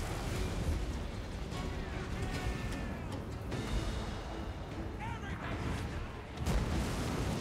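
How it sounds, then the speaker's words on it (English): Battle in the video game Total War: Warhammer 3 rumbles with booming explosions and artillery-like blasts, dense and continuous, with a heavier thump near the end and faint crowd noise underneath. "Nice big explosion there, right on the chosen."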